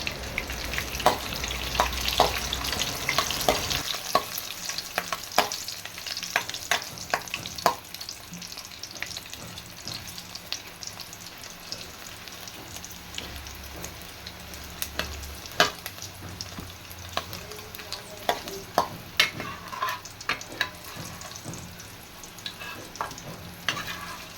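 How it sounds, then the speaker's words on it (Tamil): Steady frying crackle and sizzle of papadum in hot oil, with intermittent stirring scrapes and clicks throughout; no voices. "அதுக்குள்ளே நான் அப்பளம் பொரிச்சு எடுத்துக்கிறேன்."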